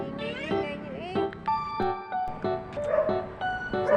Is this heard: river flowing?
no